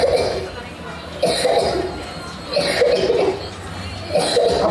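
A woman coughs in repeated short fits, roughly every second and a half, close by, with a faint murmur underneath.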